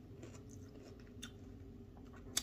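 Someone chews crunchy fried pork chop up close, with faint crisp bites and crunches over a low room hum and a sharp crackle at the end.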